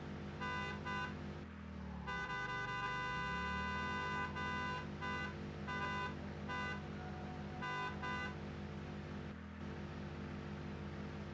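A video-game vehicle horn sounded by pressing buttons gives a series of short and longer electronic honks, spaced irregularly and fairly quiet over a steady low hum.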